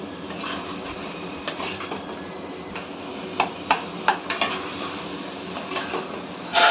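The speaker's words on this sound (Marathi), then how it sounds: "आता मावा टाकून घ्यावा थोडे ह्याला पण मिक्स करून घ्यावे" Carrot halwa with mawa stirred in a pan, with scattered sharp clicks and scrapes of a spoon against metal over a steady low background hum.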